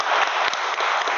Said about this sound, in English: Round of applause for Pooja